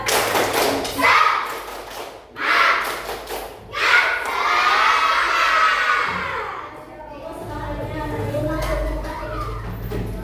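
Schoolchildren in an Indonesian class perform the tepuk semangat clap chant: a few sharp clap bursts, then a sustained stretch of cheering and shouting voices, with an adult voice speaking near the end.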